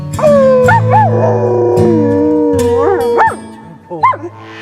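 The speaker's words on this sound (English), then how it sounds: "Griff, let's howl it up." A dog howls in long rising and falling wails, close and loud, with a couple of shorter yips and whimpers toward the end.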